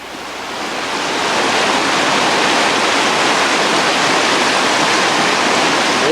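A canoe runs heavy white-water rapids on the Missinaibi River, heard as a loud, continuous rushing roar of turbulent water that swells in over the first second and then holds steady.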